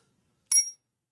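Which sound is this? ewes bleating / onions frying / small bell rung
small bell rung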